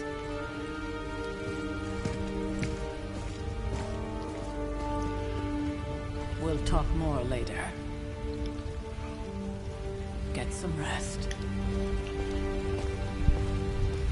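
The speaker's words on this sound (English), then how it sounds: "Raining, nobody got an umbrella." Steady rain falls throughout a scene from the video game Midnight Suns, a constant wash of drops on a surface. A brief spoken line comes near the end, with faint tonal background music underneath.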